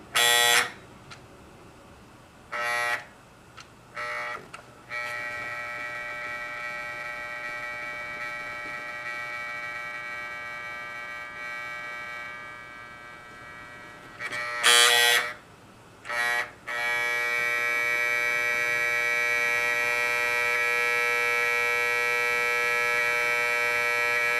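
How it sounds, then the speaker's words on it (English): Alarm buzzer of a General Electric Model 50 clock radio: a steady electric buzz sounding in several short bursts, then a long continuous drone, close and fairly loud with no talking. "alright, let's show you what the buzzer looks like."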